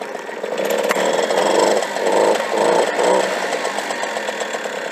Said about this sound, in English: So now let's start the engine.